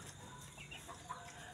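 Chickens being kept on a small farm at night, clucking faintly and intermittently in the distance over a low, steady background hum.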